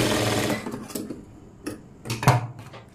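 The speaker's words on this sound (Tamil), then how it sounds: "ஒரு தையல் இப்படி போட்டு விட்டுருங்க" Sewing machine stitching a puff-sleeve blouse, giving a short run of clattering needle ticks and mechanical knocks, close and fairly loud, with a few sharper taps near the end.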